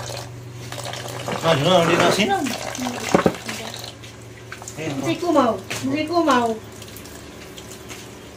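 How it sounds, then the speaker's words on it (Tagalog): Crabs rinsed under a running tap give a steady hiss of flowing water with light splashing, close by, partly masked by people talking over it. "Hugasan na, hugasan."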